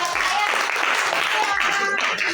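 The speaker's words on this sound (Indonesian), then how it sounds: "tepuk tangan buat saya" Brief applause in a classroom during a physics lesson on Kirchhoff's laws, quick clapping from students blended with voices, loud and close throughout the short moment.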